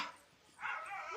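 A dog whimpers in high, thin whines at a household while water is being set out for it: a short cry at the start, a quieter pause, then a longer wavering whine near the mic.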